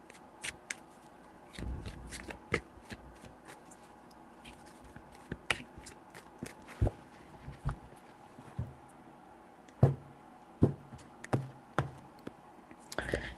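Tarot cards handled and shuffled up close, a sparse series of sharp card snaps, taps and short riffles spread across the stretch, quiet between hits.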